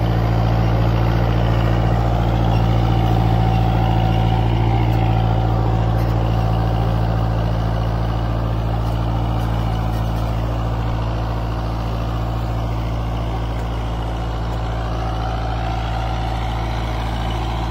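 A Kubota 4x4 tractor drags an 11-tine cultivator and a 14-disc harrow together through soft field soil, its engine droning steadily and loudly at close range with a deep, constant low rumble and no pauses.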